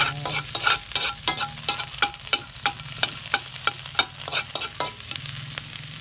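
Garlic and onion being sautéed in a pan with chicken innards, a steady sizzle punctuated by about a dozen regular spoon scrapes in an even rhythm, close and clear with no speech.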